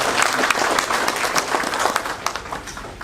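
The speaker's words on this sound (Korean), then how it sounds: "큰 박수로 맞이해 주시기 바랍니다" An audience at a peace prize award ceremony claps to welcome a jury chairman, dense steady applause with sharp individual claps, loud and close, tapering slightly toward the end.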